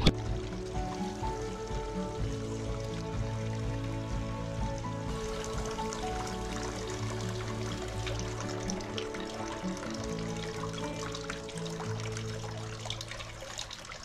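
A newly planted Orange Jessamine is watered, a steady trickling pour of water running continuously and evenly near at hand, with a busy layer of other sound underneath and no talking.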